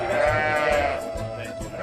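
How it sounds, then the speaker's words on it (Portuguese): Langa sheep, an endangered breed kept for raw-milk cheese, bleat close by in a short wavering call followed by fainter overlapping bleats and low rumbling background, no talk. "Escolheu as ovelhas da Langa, em extinção."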